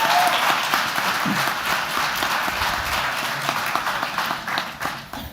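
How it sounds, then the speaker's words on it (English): An audience at a physical therapy pinning ceremony applauds friends and family with sustained, crisp clapping from many hands, steady and fairly close, tapering slightly at the very end. "So applause to the friends and family."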